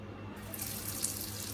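Water running from a bathroom tap into a sink, a steady hissing splash that stays even throughout, close and alone with no talk.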